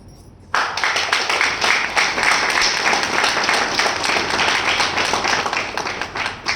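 Steady applause from an audience at a business opportunity presentation, dense continuous clapping starting abruptly and sustained at full volume throughout.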